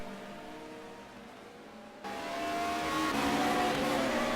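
BMW touring race cars in the 1996 British Touring Car Championship race at Brands Hatch Indy, engines droning steadily and then swelling louder as the cars close in and accelerate past, with no talk.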